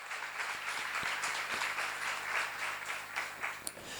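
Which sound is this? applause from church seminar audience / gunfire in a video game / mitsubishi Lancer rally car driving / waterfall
applause from church seminar audience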